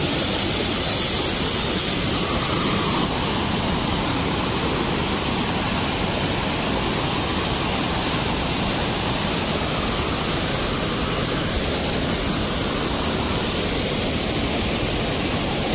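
Steady, heavy rush of rainwater pouring through a flooded drain channel during rain, a continuous broadband roar with no breaks, close and loud throughout.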